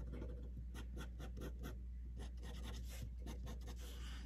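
A pencil sketches a birdhouse on paper in quick scratchy strokes, close and faint over a steady low hum, with no voices.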